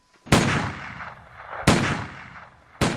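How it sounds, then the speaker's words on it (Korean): Three loud gunshots fired from a farm, each a sharp crack followed by a reverberating tail, spaced over a few seconds with no voices. "축포처럼 엄숙하게 터지는 총소리가 들려왔다"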